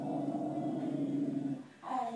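A dog growls in a low, sustained rumble for about a second and a half, close and fairly quiet, ending with a brief higher yelp-like note.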